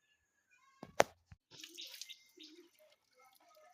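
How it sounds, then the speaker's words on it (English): Scent leaf being washed in water, quiet splashes and a sharp slosh followed by faint dribbling and trickling, close but soft. "As I wash the scent leaf, before cutting it, you have to wash it because of sands."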